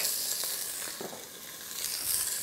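Garlic sizzles in a hot pan beside seared duck legs, a soft, steady close hiss with a few faint stirring touches and no talking.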